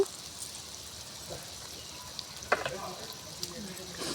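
Konaseema-style stuffed brinjal curry sizzles steadily in a pan, with a sharp crackling burst midway as a little water is added, then softer bubbling and a few faint clicks.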